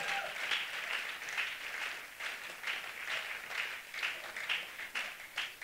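Congregation applauding during a church service, steady loud applause from a crowd filling the room with rhythmic swells, heard on its own without speech.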